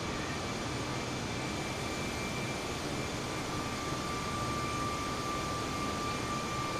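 Steady, continuous drone of an airplane engine in Microsoft Flight Simulator, cruising high over the white cliffs of Dover, a constant broadband hum with faint tonal whine, even in loudness throughout and without speech.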